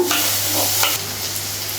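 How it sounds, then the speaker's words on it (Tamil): Steady sizzling in a hot pan with a spoon scraping and stirring through onion and tomato, close up and continuous. "இப்போ இது ரெண்டுத்தையும் சேர்த்து நல்லா வதக்கிடுங்க."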